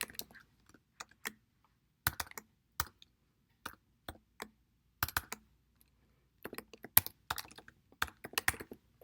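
Typing on a computer keyboard while writing a Python program: irregular bursts of quiet, close key clicks separated by short pauses, with no talking.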